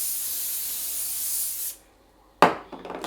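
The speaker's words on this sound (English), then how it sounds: "I'm going to spray a bit more" A sustained hiss of spraying for over a second, then a brief pause, followed by another sharp burst of spray with a few quick follow-up hisses.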